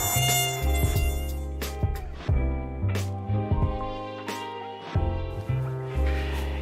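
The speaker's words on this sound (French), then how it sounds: "C'est un moustique, j'en suis certain." A mosquito buzzes in a whining, pulsing drone that swells and fades in several bursts, fairly loud and close, with no speech over it.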